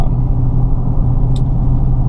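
A 2017 Dodge Daytona with a 5.7-litre V8 and active exhaust, downshifted in sport mode, giving a steady, loud low engine rumble close by, with no talking.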